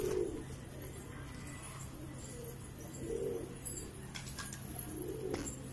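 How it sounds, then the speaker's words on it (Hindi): A flock of Hyderabadi pigeons passes, with low cooing and faint wing rustles rising in soft bursts over a steady outdoor hum, fairly quiet and somewhat distant. "एक और आई चिड़ियाओं की टोली बहुत तेज जाती हुई, बहुत तेज और झुंड में जाएंगी है।"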